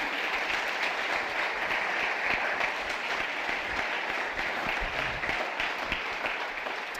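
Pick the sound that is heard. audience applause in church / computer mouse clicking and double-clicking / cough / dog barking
audience applause in church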